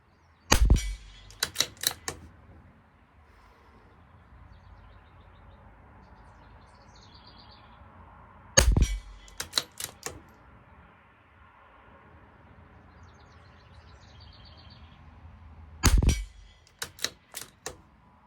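Three separated bursts of CZ457 rimfire rifle fire at a 50-yard range, each a sharp loud crack followed by a few quicker, fainter shots, with quiet outdoor background between the groups.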